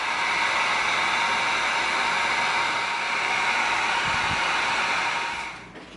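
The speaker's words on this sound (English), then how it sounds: "Now we're going to get our heat gun going." A heat gun blows a loud, steady, close whooshing roar while sealing an EVA foam chainsword, then winds down and fades near the end.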